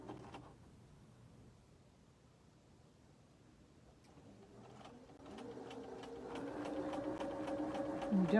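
A sewing machine stitches quilt block pieces together, starting faint and building to a steady, fast mechanical whirring and rattling that grows louder toward the end, with no talk.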